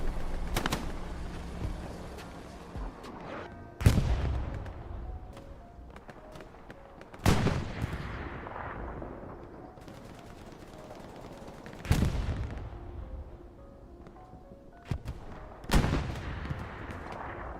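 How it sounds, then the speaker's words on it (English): Heavy artillery blasts and gunshots in Hell Let Loose boom out every few seconds, each one loud with a long rolling decay. Quieter distant shots and faint battlefield noise fill the gaps between blasts. "Artillery is being dirty."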